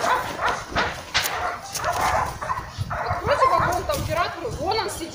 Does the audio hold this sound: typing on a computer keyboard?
no